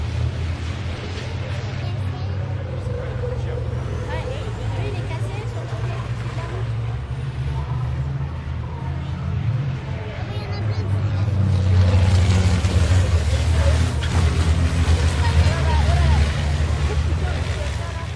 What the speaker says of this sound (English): you find two Ram trucks purring in the dark like wolves. Mid-2000s models with Cummins hearts tuned to thump without apology